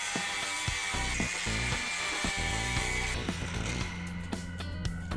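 Saw cutting the end off a PVC pipe elbow during plumbing work, heard up close as steady, rhythmic rasping strokes with gritty ratcheting texture and no talking.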